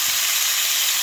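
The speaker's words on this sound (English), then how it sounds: "got some olive oil in our pan. So we're going to get ourselves some garlic in there" Minced garlic sizzling in olive oil in a pan for homemade spaghetti sauce, a dense, continuous hiss that holds close and loud throughout.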